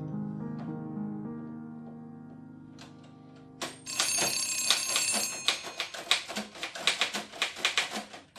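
A telephone bell rings in rapid metallic bursts of trilling clatter, loud and close, after a quieter stretch of sustained tones.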